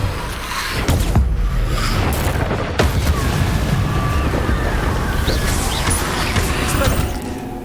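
Spell blasts from the Bombarda and Confringo charms in the Hogwarts Legacy video game: a dense run of booming magical impacts and crackling bursts, loud and continuous, with a couple of sharper hits standing out.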